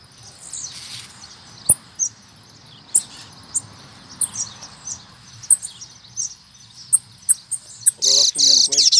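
A rusty-collared seedeater (coleiro pardo) calls with sharp, close chirps and short tweets at irregular intervals, ending in a loud burst of rapid song.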